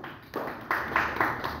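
Brief applause from schoolchildren in a classroom voting on a drawing, a few scattered claps in short bursts from a small group, fairly faint and with no talking.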